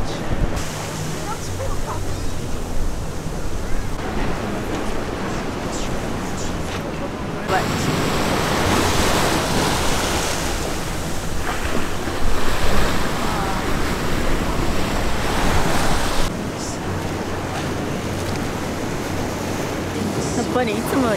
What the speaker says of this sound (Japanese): やっぱりいつもより波高い気がする。